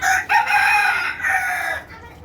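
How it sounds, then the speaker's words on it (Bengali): Laiza hill chickens on a farm cluck and crow loudly and close by, a short burst of harsh, rising calls that break off briefly midway. "এই যে ল্যাংটা মুরগিটা দেখেন এখানে লাইজা মারাত্মক লেভেলে"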